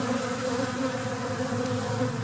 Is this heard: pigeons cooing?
no